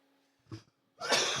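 A short muffled cough followed by a louder, harsher cough burst, close to the microphone, after a moment of quiet.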